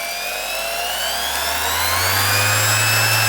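A Bosch GEX 34-125 random orbital sander spins up, its steady whine climbing in pitch as it gathers speed, loud and close with no talk.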